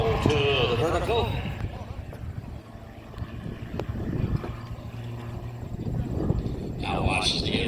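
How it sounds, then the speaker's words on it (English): An aerobatic airplane flies a four-point hesitation roll at an airshow, its engine a distant, fluctuating drone beneath a commentator talking over a public address with crowd ambience. "4-point hesitation roll. Stopping that airplane every 90 degrees."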